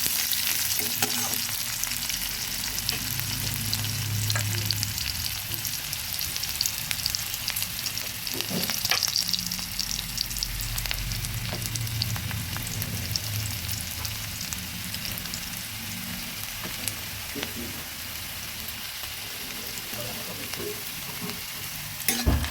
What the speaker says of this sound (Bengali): পেঁয়াজটা আমি সুন্দরভাবে ভেজে নিচ্ছি।